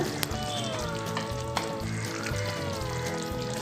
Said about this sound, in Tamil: குழம்பு நல்லா கொதிச்சிட்ருக்கு